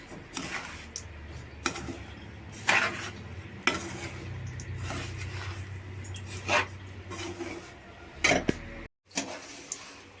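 Cashews and raisins fried in a pan for rava laddu and kesari, heard as repeated close clinks and scrapes of a spoon against metal over a low, faint sizzle, with a brief silent gap near the end.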